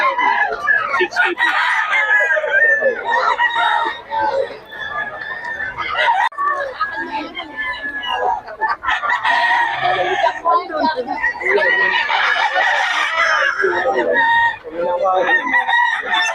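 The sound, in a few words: gamecock stags crowing at a market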